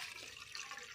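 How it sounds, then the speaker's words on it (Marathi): Water pours into a basket while preparing Gujarati khaman batter, a steady close splashing trickle that runs the full second without pause. "त्या टोपलीमध्ये आता आपण पाणी टाकून घेऊया"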